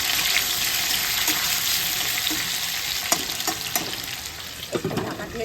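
Hilsa fish curry with potatoes cooking in a pan, a continuous close sizzle and bubbling broken by a few clinks and scrapes of stirring.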